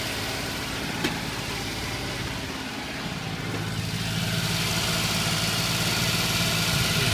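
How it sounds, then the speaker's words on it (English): A Daihatsu Hijet engine hanging at high idle, a steady close mechanical hum that climbs slightly in level partway through and runs without any voices. "I think it's kind of hanging up on high idle again."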